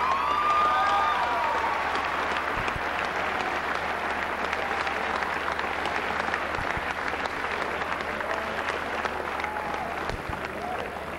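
Sustained applause from a crowd at an amateur boxing event honoring young boxers, a dense, even roar of clapping that holds steady for the whole stretch, with a few faint voices mixed in.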